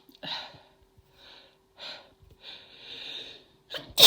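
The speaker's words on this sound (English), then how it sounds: "I have to sneeze." A woman's sneezing fit builds through several breathy, gasping intakes and wheezes before a sudden loud sneeze bursts out at the end, close and intimate.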